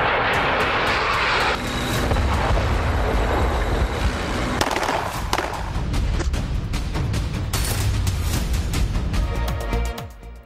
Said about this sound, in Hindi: एयरफोर्स और नेवी के तैयारों और हेलीकॉप्टर्स का फ्लाई पास्ट